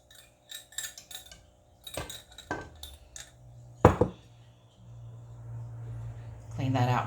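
A spoon clinks and scrapes against a bowl as rice pudding mixture is stirred, giving a string of sharp taps and a louder knock, and then a low hum near the end.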